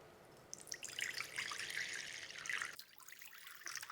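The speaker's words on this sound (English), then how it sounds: "let me add some water in these bowls" Water is poured into small bowls for tissue-culture plants, a close, faint trickle and splash lasting a couple of seconds before stopping abruptly, followed by a brief pause and a soft knock.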